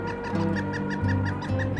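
A giant cartoon chicken gives a run of steady, rhythmic honking clucks, repeated evenly and close, with a faint musical bed underneath.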